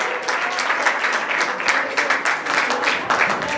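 An audience applauds at a cultural programme held at a Digambar Jain temple during the Daslakshan festival, dense continuous clapping from many hands filling the hall, with faint voices underneath.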